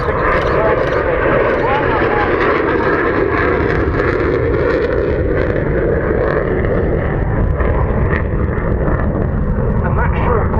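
A Saab Viggen jet makes a short takeoff at the Waddington 2013 airshow, a loud continuous roar that fills the whole stretch while commentators talk over it.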